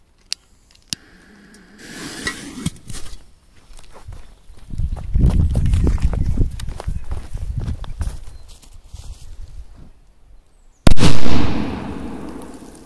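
A large firecracker is set off outdoors: a brief pause, then a sharp loud bang near the end with a crackling tail, after a stretch of rustling and shuffling footsteps.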